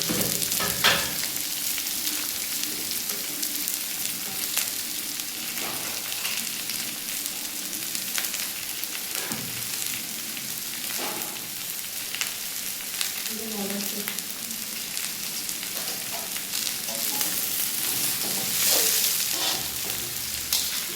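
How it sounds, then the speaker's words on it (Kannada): Two kilograms of onions frying in hot oil in a large batch for a mutton dish, with a steady, close sizzle and stirring scrapes throughout and occasional faint speech underneath. "ಎಣ್ಣೆ ಕಾದಿದೆ. ನಾನು ನೋಡಿ 2 kg ಈರುಳ್ಳಿ ಹಾಕ್ತಾಯಿದ್ದೀನಿ."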